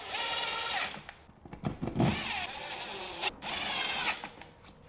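A power drill drives screws into a plate molded to fit a 5-gallon bucket on a dust cyclone separator cart, with several whirring bursts that rise in pitch and stop, close up.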